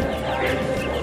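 Light Sussex chickens cluck in a brief, busy murmur, close and fairly loud, with no other sounds standing out.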